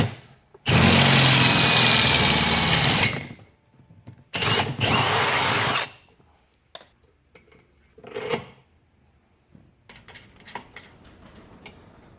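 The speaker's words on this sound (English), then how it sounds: "drill this hole bigger." A power drill enlarges a bolt hole while a luggage rack is mounted on a vintage Honda CB350 motorcycle, giving two loud, sustained whirring bursts, then a few shorter taps and clicks.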